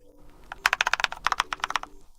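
Lubricated switches on a Keychron K2 mechanical keyboard typed in a quick run of about a dozen crisp, muted clacks, close and fairly loud, with a short pause in the middle and no talking.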